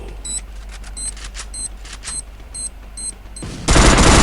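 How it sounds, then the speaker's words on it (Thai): Gunfire in the mobile shooter Free Fire comes as rapid, evenly spaced bursts of game shots over a steady electronic hum. A loud, dense blast of noise takes over in the final half second. "ตอนนี้เพื่อนยิงไป"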